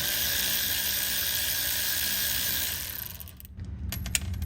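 A ratchet turns in reverse to back out a spark plug on a Honda S2000, making a steady close whirring click that tapers off, followed by a few sharp metallic ticks.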